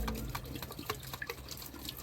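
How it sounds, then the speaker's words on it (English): Water trickling weakly out of a blocked diesel particulate filter from a Citroen, Peugeot or DS car during cleaning, heard as faint, irregular drips and splashes close by. "look, the water is barely coming out"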